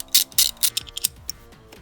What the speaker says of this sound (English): grab yourself a 12mm socket and a ratchet wrench